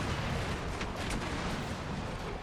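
Heavy cannon fire booms continuously in a Napoleonic-era strategy battle with Dutch forces, dense overlapping blasts and rumbling roar filling the space without pause.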